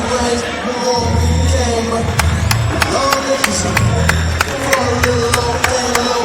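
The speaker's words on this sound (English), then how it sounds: "this is when you clap" Audience at an independent wrestling show clapping in steady rhythmic unison, sharp regular claps over loud crowd murmur and low rumbling noise, beginning a couple of seconds in.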